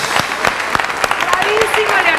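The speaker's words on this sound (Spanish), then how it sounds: "Le damos un aplauso." Dense, steady applause fills a stage hall at a Mexican talent recognition event, with a few sharper individual claps standing out and a voice speaking over the crowd.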